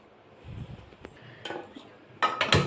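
Metal clatter of a kadai pan being set onto a kitchen stove, a few separate clinks and knocks close by, with a sharper ringing clank near the end against a quiet background.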